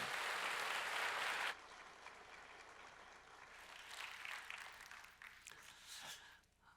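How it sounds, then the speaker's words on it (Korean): A church congregation claps to welcome a visiting missionary at a Sunday service. A dense, steady roll of applause lasts about a second and a half, then drops to a faint, patchy room murmur with scattered light sounds. "우리 선교사님 나오셨는데 박수로 한번 환영하겠습니다"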